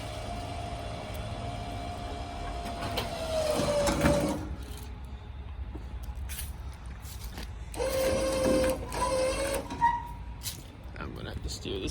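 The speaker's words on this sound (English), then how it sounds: "So we've got the little winch hooked up to the C10, and here we go." A small electric winch pulls a Chevrolet C10 pickup during a mid-engine drivetrain removal, its motor whining in two separate bursts of a few seconds each with quieter stretches of shop noise between them.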